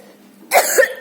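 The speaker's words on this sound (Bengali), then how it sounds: "আমার যা কাশি হয়েছে" A single harsh cough from a person with a bad cough, bursting loudly out of near silence and ending in a short second rasp.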